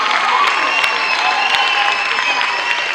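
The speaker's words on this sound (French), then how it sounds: "Est-ce que vous pouvez encore applaudir pour moi" Audience applause and cheering at a school performance event, a dense steady wash of clapping from a crowd, loud and continuous with occasional sharper claps throughout.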